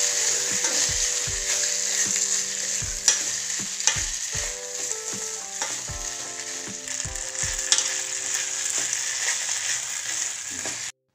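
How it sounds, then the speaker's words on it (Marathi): Soaked sago pearls tossed with cumin and green chilli in a hot pan sizzle continuously while a spatula scrapes and knocks against the metal in a busy, uneven rhythm, close up, ending abruptly. "त्यामध्ये हे साबुदाणा टाकून घ्यायचा आहे आणि याला चांगलं मिक्स करून थोडं परतून घेऊया"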